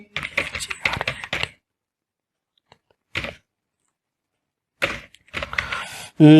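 Short bursts of keystrokes on a computer keyboard, entering a place name into an online form, with gaps of silence between clusters of close, crisp taps.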